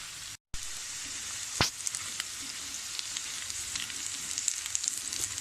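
Potato pieces deep frying in hot oil for aloo manchurian, a dense, even sizzle and bubbling hiss with one sharp clack early on, no talking.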